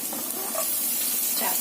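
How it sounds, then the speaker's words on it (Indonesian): Chopped garlic sautéing in a pan, giving a steady, fairly loud sizzling hiss that continues evenly throughout without talk. "tumis dulu bawang putihnya yang kita cincang tadi ya"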